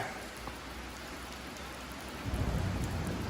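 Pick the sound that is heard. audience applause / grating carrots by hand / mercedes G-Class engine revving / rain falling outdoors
rain falling outdoors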